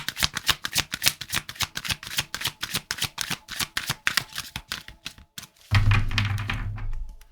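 A deck of tarot cards being shuffled by hand, a fast run of crisp, evenly spaced riffling flicks up close that breaks off, followed by a brief louder rustling slide of cards.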